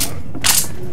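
A weapon reloading in the zombie shooter Left 4 Dead 2, a quick loud mechanical clack and ratchet over a steady, dense game background.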